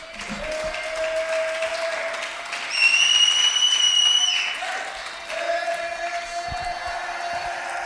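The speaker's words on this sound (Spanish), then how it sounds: "Démosle un aplauso a Jesús." A church congregation applauds during a Spanish-language service, a dense continuous wash of clapping that swells midway with a sustained tone above it, then settles.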